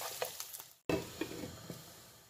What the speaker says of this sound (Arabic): نزدت الثوم غادي نحركها واحد شويه